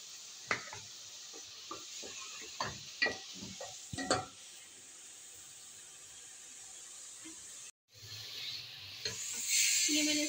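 Chicken and saag sizzling in oil, stirred with a series of sharp scraping clicks and clatters through the first half, then a quieter steady hiss of frying that rises again toward the end.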